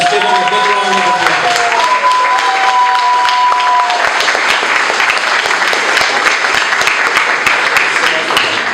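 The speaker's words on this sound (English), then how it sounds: "Let's give him a big round of applause." Audience applause at a political party meeting in Windwardside, with steady clapping filling the room for several seconds, loud and dense throughout, while a few tonal sounds ring out briefly near the start.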